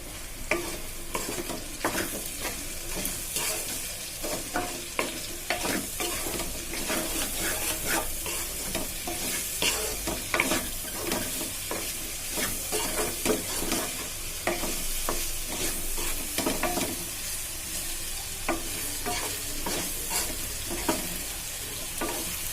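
Raw banana pieces sizzle while frying in a pan with turmeric and salt, and a spoon stirs and scrapes them in frequent close strokes over the steady crackle.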